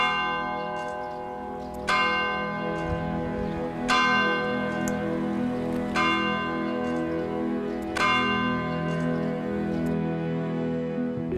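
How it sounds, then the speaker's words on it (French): Church bells toll in slow, evenly spaced strikes about every two seconds, each ringing out and decaying into a quiet, open outdoor ambience near the Gimel waterfalls in Corrèze, France. "Ah, les cloches de..."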